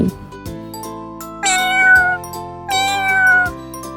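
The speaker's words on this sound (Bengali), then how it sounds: "বিড়াল ডাকে মিউ মিউ।" A cat meows twice, drawn-out and fairly loud, over a soft musical backdrop with light plucked notes.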